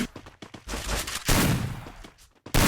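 Video game gunfire: rapid bursts of shots, loud and close, come in quick clusters and then a sustained volley, with no talk.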